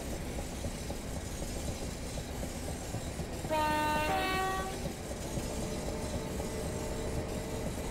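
A Class 375 electric train runs on the Chatham Main and Medway Valley route toward Strood in Train Simulator 2019. Its steady rolling rumble continues throughout, and a two-tone horn sounds loudly near the middle. Nobody speaks.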